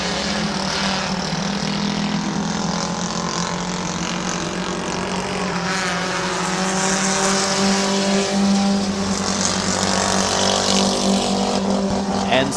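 Race cars roaring around the Midvale Speedway oval, a loud sustained engine drone with shifting pitch as cars run side by side, while an announcer calls the race over the din.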